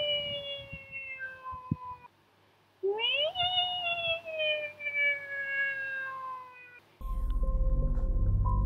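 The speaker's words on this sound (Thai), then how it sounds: "มันเป็นเสียงแมวร้องเบา" A cat meows in a few drawn-out, wavering cries, fairly close and clear, with quiet gaps and a low hum near the end.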